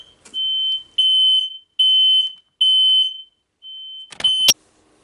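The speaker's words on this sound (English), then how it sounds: "Fire alarm went off." An indoor fire alarm sounds a series of loud, piercing high beeps in a regular on-off rhythm, four long tones then a weaker one, ending with a sharp click.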